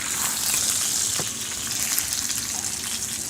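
Beef bones go into a hot roasting pan, setting off a loud, dense sizzle that hisses steadily throughout, with a brief knock as they land and no voices.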